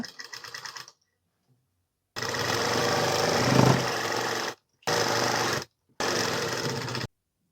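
A sewing machine stitches the folded edge of a kitchen apron in several close, loud whirring bursts, with short pauses between runs.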